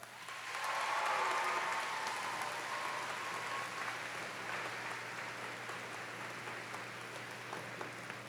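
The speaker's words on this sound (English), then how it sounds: "Please give them a round of applause." A commencement audience applauds the faculty at a 2019 FGCU summer graduation ceremony, a broad sustained wash of many hands clapping that swells in the first seconds, then holds steady at moderate volume in a large hall.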